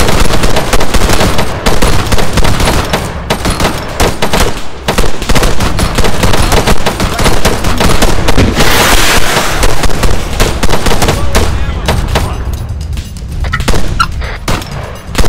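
Sustained heavy gunfire fills a military video game mission, loud and continuous with dense overlapping bursts and booms before thinning out near the end.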